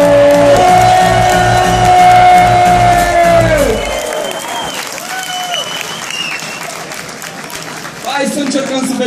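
A crowd at a Battle MC rap event applauds, cheers and whoops, loud and close, while an amplified voice carries over the first half. The noise sags briefly and then swells again near the end.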